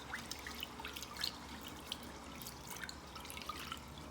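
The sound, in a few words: rinsing rice in a pot under cold tap water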